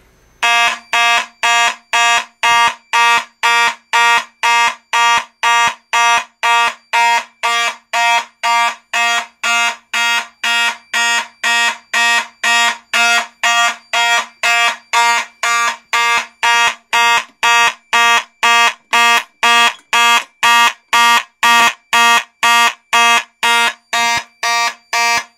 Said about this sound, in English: when the alarm is going off because it's a mechanical thing, so it vibrates